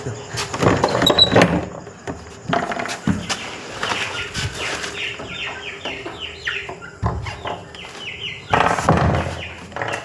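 White chickens cluck and squawk in a busy, close cluster of calls, with scattered bumps and some background voices.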